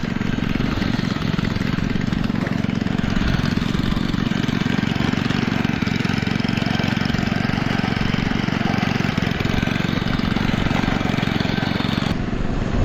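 An old engine, called a barunang, runs steadily at a water pumping spot, a continuous loud low rumble with a rough idling drone and no pauses, heavy wind noise over it.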